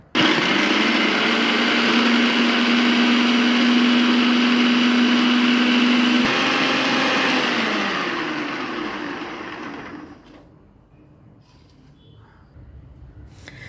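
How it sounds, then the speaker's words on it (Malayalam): A mixer grinder jar chops carrot, onion, cabbage and green chillies, a loud steady high-pitched motor whine running several seconds, then winding down and fading to near silence. "ഇനി നമുക്ക് ഇതിൽ രണ്ട് പച്ചമുളകും കൂടി ഇട്ട് ഇത് നല്ലതുപോലെ ഒന്ന് അരിഞ്ഞെടുക്കാം ഈ ജാറിൽ തന്നെ ഇട്ടൊന്ന് അരിഞ്ഞെടുക്കാം"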